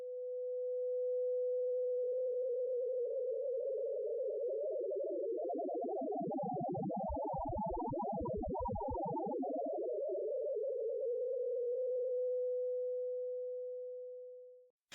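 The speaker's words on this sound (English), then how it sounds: "Variate parameter adds a random control signal to create pitch fluctuations." A steady pure sine tone whose pitch wobbles randomly from the MeldaProduction MTransformer's Variate control, the fluctuations growing wider in the middle before settling back to a constant note.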